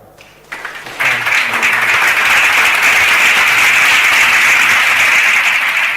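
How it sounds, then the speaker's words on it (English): A large crowd at a live math quiz event breaks into sustained applause after a brief quieter start, steady and loud, with dense clapping filling the whole stretch. "a round of applause"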